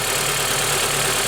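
Acura TSX car engine idling steadily after an alternator replacement, a continuous close, fairly loud hum with no talk.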